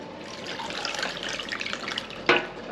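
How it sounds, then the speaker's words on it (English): Green tomato juice for salsa pours from a container in a steady, close liquid splash that runs unbroken for a few seconds, ending in a brief louder slosh near the finish. "we're gonna pour our juice"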